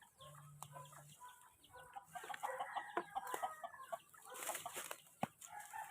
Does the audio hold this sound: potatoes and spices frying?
no